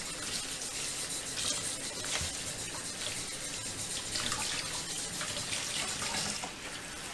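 Tap water runs steadily into a bowl of dry Purina Pro Plan puppy kibble for a nine-week-old Goldendoodle, a continuous close splashing hiss with no talk.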